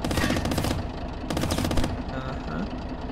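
Rapid bursts of gunfire in the video game Squirrel With a Gun, loud and close, in two dense volleys followed by quieter game noise.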